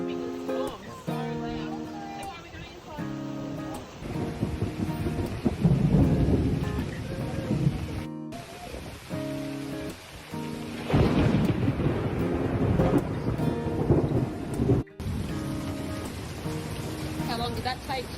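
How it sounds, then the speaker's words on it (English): Heavy tropical rain pours down in a loud steady hiss while thunder rumbles and cracks, and people talk over the downpour. "First rain. Our first tropical storm. So loud."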